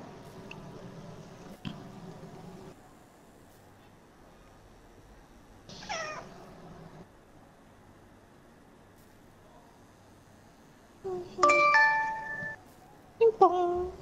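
A doorbell gives a short two-tone electronic chime late in the exchange, set apart from earlier bursts of talk and cat-like squeaks in an otherwise quiet room.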